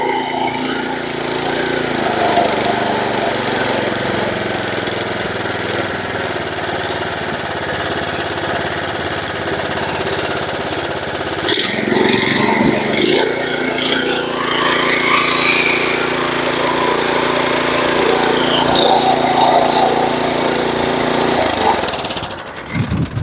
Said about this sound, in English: So that runs better for sure.